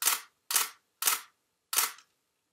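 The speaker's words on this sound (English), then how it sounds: "this is the D610, also 200ths of a second." A Nikon D610 DSLR shutter fires in burst mode at 1/200 s. Four sharp, close mechanical clacks come in a fairly even sequence, with a slightly longer gap before the last one, and no voices.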